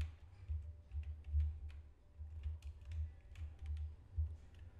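Soft keystrokes on a computer keyboard come in quick irregular bursts with short pauses between them, faint and close, while text is entered in Figma.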